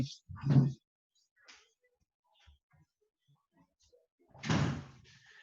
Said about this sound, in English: So I'm just going to shut the door.